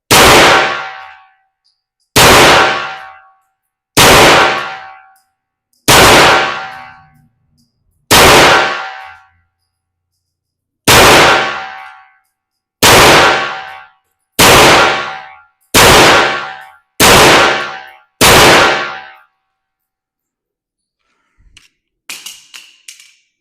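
Glock 44 pistol rounds strike steel targets, giving ten sharp, loud metallic rings at a steady, unhurried pace. Each ring decays cleanly, and a few faint clatters follow at the end.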